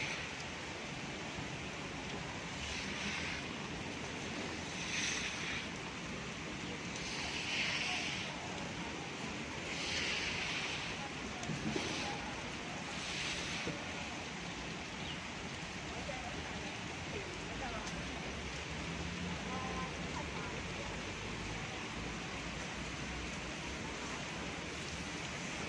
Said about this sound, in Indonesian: Nah, hujan deras.